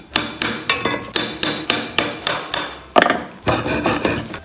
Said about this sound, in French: On va enlever le laitier.